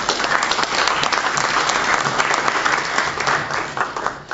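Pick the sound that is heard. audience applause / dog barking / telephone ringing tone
audience applause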